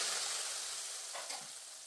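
Jackfruit chips frying in oil just after salt water is poured in, a bright, hissing sizzle that stays loud and close for the short stretch, with a brief spattering burst near the end.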